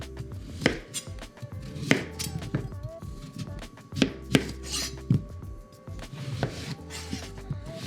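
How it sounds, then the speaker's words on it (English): A knife dices a sweet potato into small chunks on a cutting board, irregular thuds and knocks repeating steadily, close up, with no talking. "we're just gonna dice our sweet potato up into some small chunks"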